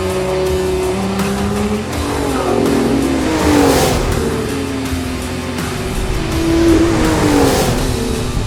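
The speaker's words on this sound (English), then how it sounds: "This engine just roars." A 2021 Lotus Emira sports car's engine roars loud and close, rising and falling through repeated revving surges with shifting pitch over several seconds.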